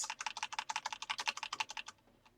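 Computer keyboard keys hammered in a fast, rapid-fire burst of clicks during a 1991 Nintendo Star Wars game, close and loud, stopping abruptly near the end.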